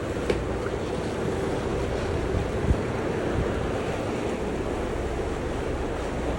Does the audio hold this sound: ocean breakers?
yes